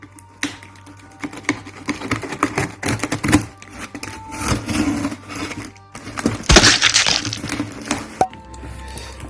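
A damaged cardboard parcel box is opened up close, with irregular crackles, scrapes, taps and tearing rustles in uneven bursts, including one louder ripping burst partway through.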